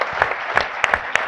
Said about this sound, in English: So please join me in applauding this wonderful panel for their contributions.